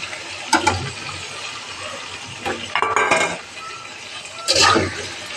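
Spices being stirred in a pan for pumpkin greens make a soft background sizzle punctuated by three distinct bursts of scraping and clinking from the spoon against the pan, close up and without speech.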